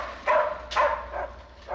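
Dog barking in a Wi-Fi Dogs mockumentary: three or four short, sharp barks spaced about half a second apart, close and clear over a quiet background.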